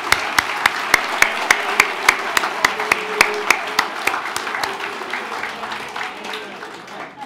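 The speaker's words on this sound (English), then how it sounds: "Let's give a round of applause for all of our table sponsors." A round of applause for table sponsors at a medical center's diamond jubilee celebration, heard as a crowd clapping under sharp, evenly spaced rhythmic claps that continue for several seconds before thinning out.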